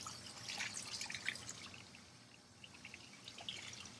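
Warm tap water pours over a bird skin being rinsed, a faint, steady trickle with a few louder splashy bursts.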